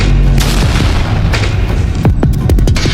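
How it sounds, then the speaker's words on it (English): A loud, rumbling explosion booms close by, followed by a few sharp cracking bursts toward the end. "The explosion ripped Nastir apart, only for the virus to rebuild him instantly."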